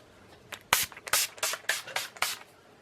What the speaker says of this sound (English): I'm going to be using the Urban Decay setting spray in the De-Slick one. I'm just setting that real quick.